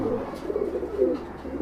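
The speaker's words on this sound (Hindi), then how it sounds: "बहुत शानदार कबूतर है" Low, soft cooing from a Madrasi pigeon, a steady throaty murmur with a couple of swelling coos, close by, against a faint background hum.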